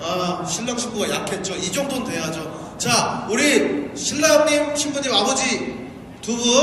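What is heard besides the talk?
No everyday noises stand out.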